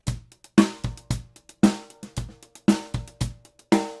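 A drum kit groove of kick, snare and hi-hat plays alone in a steady repeating pattern, close and fairly loud, with sharp struck hits and ringing decays and no talk.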